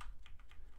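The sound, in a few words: typing on Razer 2014 Blackwidow Ultimate Stealth keyboard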